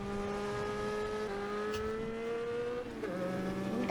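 Video game car driving along a road, a steady engine tone with shifting pitch as it accelerates and changes gear, plus a brief squeal, with no talking.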